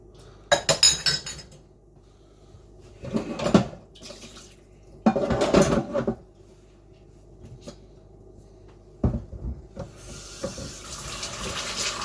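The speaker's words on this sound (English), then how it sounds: "I normally put a bit of soapy cold water in there just to start off with." Water running and splashing into a hot pan at a kitchen sink, in intermittent bursts with glassy clinks and clatter between them, close and fairly loud.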